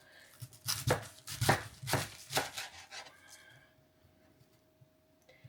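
A knife chops cabbage steadily on a cutting board, several crisp thuds in quick succession, then quieter taps trailing off near the end.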